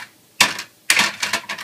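Small scissors snip through a vellum diamond piece for a Paper Smooches wedding shower paper craft, two crisp close cuts, the second a longer crunching series of snips.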